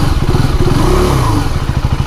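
A 2026 KTM Duke 390 Gen 3 single-cylinder motorcycle engine running close and loud, a throbbing, thumping idle with the pitch swelling and falling as the ride-by-wire throttle is blipped.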